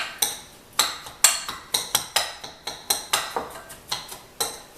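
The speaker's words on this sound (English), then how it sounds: "Mix that around." Spoon scraping and clinking against a bowl while bison pemmican is mixed with a dash of cayenne pepper, about a dozen sharp taps and scrapes in an uneven rhythm, close and fairly loud, with no talking.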